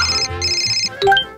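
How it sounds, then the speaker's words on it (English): A phone ringtone signals an incoming call: close, loud electronic tones in two repeated bursts followed by a short rising melodic phrase. "I got a phone call, guys!"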